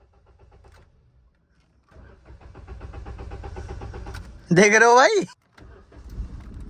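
A vehicle engine that has not run for a year cranks for a few seconds, then bursts into a loud, whining roar that cuts off abruptly, followed by quieter cranking. Someone speaks briefly at the start.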